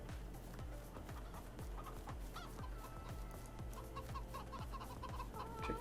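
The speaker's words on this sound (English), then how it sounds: "these are chickens" Chickens in the Farming Simulator 22 video game cluck steadily in a dense, continuous layer of overlapping calls, fairly loud and close with no talking.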